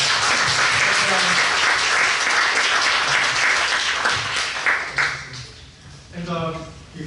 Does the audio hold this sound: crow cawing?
no